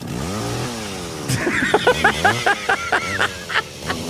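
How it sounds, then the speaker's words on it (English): A chainsaw sound effect played on a wrestling talk show stream: a revving, sputtering engine whine that rises, then breaks into a choppy series of rhythmic bursts, loud and close. "Enjoy the chainsaw."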